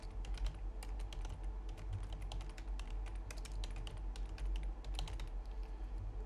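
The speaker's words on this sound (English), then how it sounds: "we're just going to type that in." Computer keyboard typed on continuously, quick irregular clicking keystrokes close up over a low steady hum.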